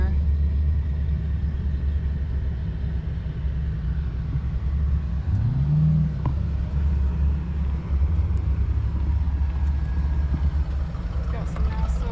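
A 1953 Cadillac car engine idles with a steady low rumble up close, running continuously throughout with a brief rev midway and people talking faintly nearby.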